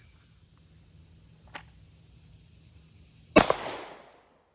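A Glock pistol is drawn and fired once in a drawing drill. A faint click comes first, then a single sharp, loud shot rings out briefly after a quiet stretch.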